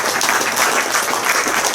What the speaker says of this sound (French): Très bien, on va applaudir,